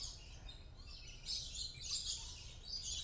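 Small birds chirp and tweet in a zoo aviary at San Diego Zoo Safari Park, a busy layer of faint, high calls heard from a distance over steady low outdoor rumble, with no talking.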